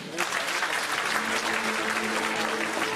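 A concert audience at an Ingush Republic Days event in Samara applauds a performer, a thick, sustained roar of clapping hands that starts abruptly and holds steady, with a faint low hum underneath.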